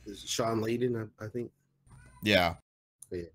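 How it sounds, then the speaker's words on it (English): A cat howls and meows loudly in drawn-out wavering calls, close to the microphone, interleaved with brief bits of people talking. "that was the cat howling in the background"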